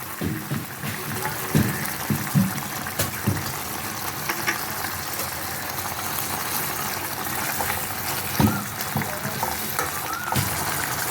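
Tarui fish curry with brinjal and black cumin sizzling in a pan, a continuous bubbling fry with occasional stirring knocks and soft splashes, close and steady.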